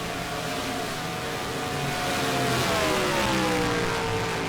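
Race cars pull out of the pits at Indianapolis during qualifying, a loud, continuous engine roar that climbs steadily in pitch as they accelerate, heard without commentary.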